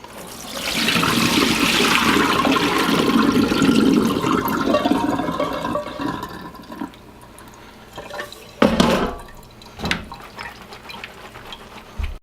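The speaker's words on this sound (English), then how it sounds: "now that we've let our noodles soak for 30 minutes, we're going to want to strain them" Water pours out of soaked noodles being strained, a loud steady rushing gush that tapers into trickles and a few knocks and drips near the end.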